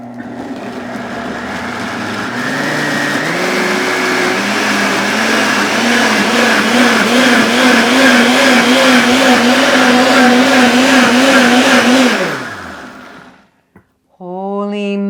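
Blender pureeing leek, parsnip and apple soup, a loud sustained motor whine with a rising and wavering pitch that runs for about twelve seconds, then winds down and stops, followed briefly by a voice.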